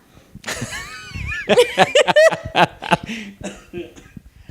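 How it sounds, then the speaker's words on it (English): A man coughs a few times amid chuckling and laughter during a relaxed podcast conversation, with voices talking around the bursts. "Oh, I'm coughing."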